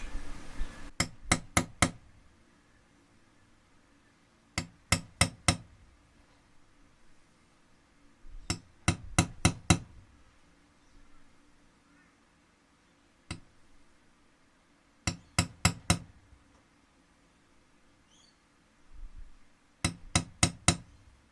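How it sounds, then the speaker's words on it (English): Small groups of three or four sharp metallic taps, repeated several times with quiet gaps, a hammer striking a center punch to mark holes for an electric guitar bridge on a workbench. "So once you've got your holes all marked out, just use a center punch."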